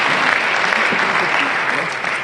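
A congregation applauds continuously during worship, a dense, loud wash of clapping with voices mixed in.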